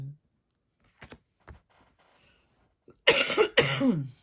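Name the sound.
coughing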